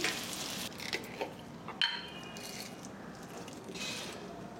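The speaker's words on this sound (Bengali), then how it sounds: "মেটেটা ভালো করে কষিয়ে নিলাম।" Liver pieces being slow-fried and stirred in oil in a pan for a Bengali mete kosha, giving a steady low sizzle with occasional soft scraping clicks of the spatula, no voices.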